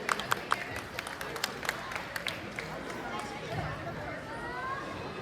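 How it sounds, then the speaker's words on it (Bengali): An audience at a kids' music program applauds young musicians, with a burst of sharp individual claps at the start giving way to a softer wash of clapping and crowd chatter. "সবাই একটু হাততালি দিয়ে ওদের এনকারেজ করুন।"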